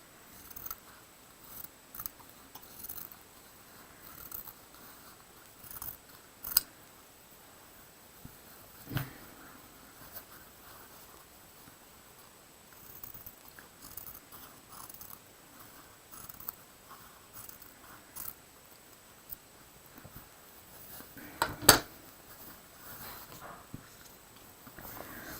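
Scissors trim quilt fabric on a holiday pine tree and peppermint block, giving sparse, faint snips and soft rustles at a quiet, close level with a few sharper clicks, without talking.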